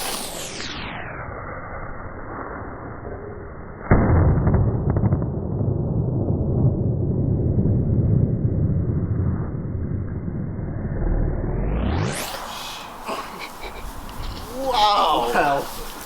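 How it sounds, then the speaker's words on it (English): Two homemade red firecrackers go off outdoors: a sudden loud blast followed by a long rumbling roar, then a quieter burst near the end, with people's voices around. "Those are good firecrackers."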